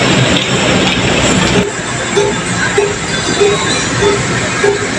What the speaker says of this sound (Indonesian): kereta api Taksaka diberangkatkan dari jalur 2 stasiun Gambir menuju tujuan stasiun Yogyakarta